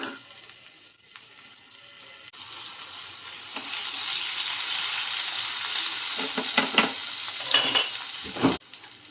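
Mustard seeds and cumin drop into hot oil and burst into a steady, close sizzle with sharp crackles and pops through it, and a faint utensil clink near the end.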